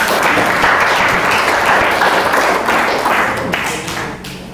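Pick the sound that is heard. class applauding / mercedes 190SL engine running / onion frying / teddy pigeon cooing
class applauding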